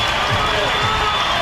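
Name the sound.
Oklahoma Sooner fans cheering at softball game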